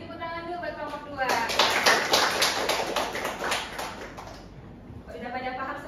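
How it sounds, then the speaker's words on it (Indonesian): A classroom group applauds group 2, making a burst of dense clapping from many hands that swells and then fades. A voice speaks just before and just after the applause. "Beri tepuk tangan dulu buat kelompok 2."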